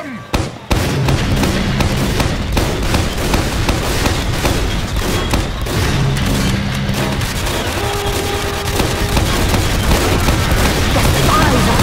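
Team Fortress 2 match in which cannon fire and gunfire are aimed at the tank: dense, loud, continuous booms and shots with layered explosions throughout, while players shout over the action.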